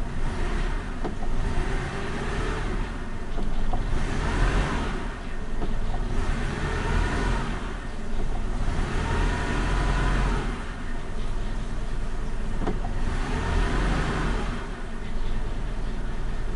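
A cold car engine idles at about 400 rpm, giving a steady, continuous rumble with slight rises and dips in level. Nobody speaks.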